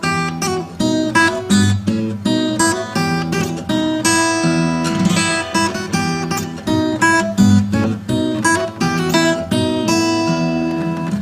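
Guitar playing a Bach piece in a semi-classical style: dense, continuous plucked notes and chords, loud and close, with no talking throughout.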